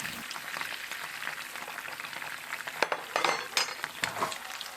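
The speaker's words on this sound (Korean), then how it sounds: "뚜껑을 닫고 이렇게 흔들어줘야 골고루 잘 익어요." A covered pan of clams cooking for oil pasta sizzles steadily while being shaken, with a few scraping and rattling bursts near the end.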